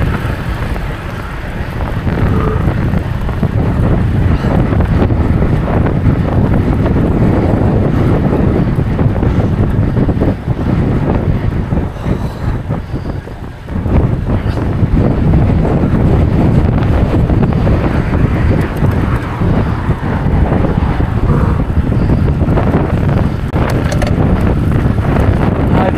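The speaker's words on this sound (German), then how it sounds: "Der Wind." Strong wind buffeting the microphone while driving on a quiet, well-built road at a former tank training ring, a loud, continuous roar with gusty low rumble throughout.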